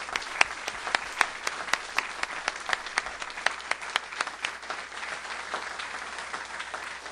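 Sustained audience applause for spelling bee winners at a Mississippi competition, dense steady clapping from a crowd with sharper individual claps standing out, continuing without pause throughout.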